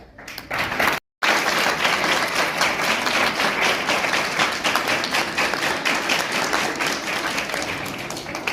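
A school assembly audience breaks into loud, sustained applause, many hands clapping densely and continuously close by, with a brief dropout near the start and no talking over it.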